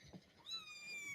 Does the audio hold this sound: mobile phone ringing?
no